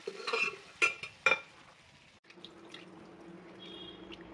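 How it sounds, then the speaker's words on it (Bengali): Water is poured from a vessel into mung dal in a pressure cooker, heard as a few splashy clinks and pours followed by a soft, steady trickle nearby. "একটুখানি জলও কুকারে নিয়ে সেই জলটা অ্যাড করে দিচ্ছি"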